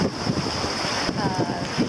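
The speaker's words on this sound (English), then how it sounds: "exciting gusts of wind" Wind buffets the microphone in rough, rumbling gusts over rushing water aboard a sailboat in the Everglades, with a steady high whine underneath.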